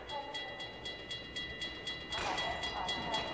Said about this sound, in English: Got a train coming my way.